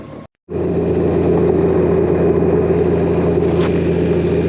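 Blue, a dual sport motorcycle, rides a dirt road near Denali National Park, its engine a steady, loud drone with constant rumble after a brief cut near the start, no voices over it.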